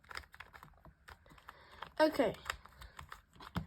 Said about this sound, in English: we're going to need to do is shuffle up the cube